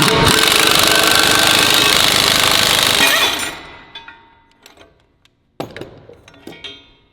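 Power tool tightening a press to push out a radius arm bushing, a loud sustained rattling hammer for about three seconds, then stopping and leaving quieter clanks and metallic knocks.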